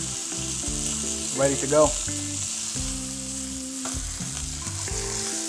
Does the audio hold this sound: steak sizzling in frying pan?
yes